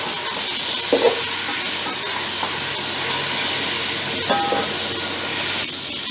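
Mutton pieces frying in a pot for a degi-style korma, a constant even hiss of sizzling oil with a couple of faint clinks, steady and close, no talking.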